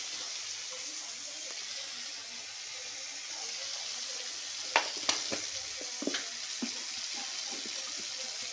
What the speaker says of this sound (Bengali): ততক্ষণ আমি নাড়তে থাকি। তোমরাও ততক্ষণ একটু নাড়বে যতক্ষণ না এই কারির মতো হয়ে যাচ্ছে এই পেস্টটা।